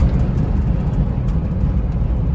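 A Mahindra Thar diesel with a manual gearbox swings through a fast turn. Loud, steady engine and road rumble fill the whole moment, close by, with wind noise and no speech.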